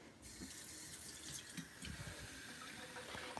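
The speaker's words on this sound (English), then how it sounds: "I'll put softened water in it." Softened water runs from a tap into a container, giving a steady hissing, splashing flow that continues evenly and quietly throughout.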